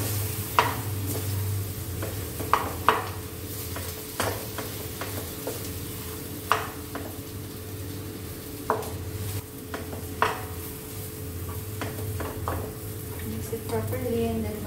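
Dosa batter is stirred in a pan with a utensil, giving scattered clinks and scrapes against a low steady background hum, while someone talks over it.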